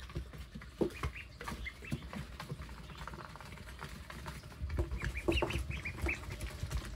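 Ducklings eating feed quickly, producing repeated small pecking, clicking and soft scuffling sounds with faint peeps, steady and close throughout without speech.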